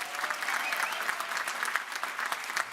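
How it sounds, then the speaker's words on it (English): Audience at a University of West London graduation ceremony clapping together in dense, sustained applause that fills the room evenly throughout, without a clear rise or fade. "So can you give that a round of applause?"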